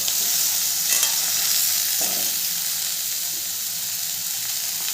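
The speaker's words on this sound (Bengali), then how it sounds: "আলুগুলো দিয়েও খুব ভালো করে আমি ভেজে নেব" Chopped potatoes and onions frying in a pan, a continuous close sizzle with a couple of stirring scrapes, no voices.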